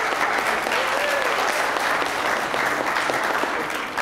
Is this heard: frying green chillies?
no